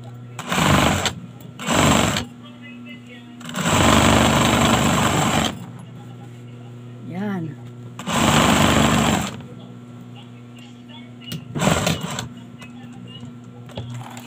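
Curtain fabric being stitched on a sewing machine in a home tutorial, heard as several loud whirring bursts of stitching separated by pauses, with someone talking between the runs.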